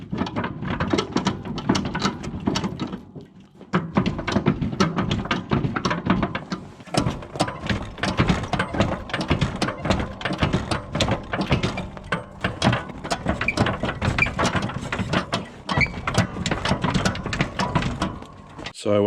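A worn 20-year-old Boss snow plow being rocked by hand, its sloppy pivots in the push frame clunking and knocking side to side in dense repeated metallic bursts, with someone talking over them.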